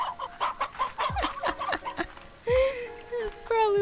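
Chickens in the video game Slime Rancher cluck in a quick series of short, close clucks, followed by longer squawking calls, with a person talking over part of it.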